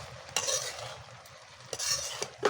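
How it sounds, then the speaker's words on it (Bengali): A spoon stirs banana flower curry with shrimp and salt in a pan, making several close, soft scraping strokes in an uneven rhythm over a faint sizzle. "একটু নাড়াচাড়া করে নিই ভালোভাবে।"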